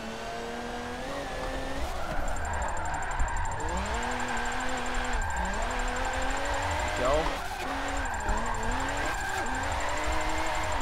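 Forza 7 car revving hard and drifting, engine note climbing and falling with tire squeal throughout, loud and close, with someone speaking briefly over it.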